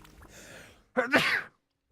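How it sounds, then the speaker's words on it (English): A single sharp, close sneeze with a quick intake of breath just before it, following a faint murmur of background game sound. "And I'm about to sneeze."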